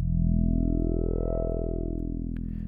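A sustained low synth bass note whose resonant filter slowly opens, brightening the tone, then gradually closes again.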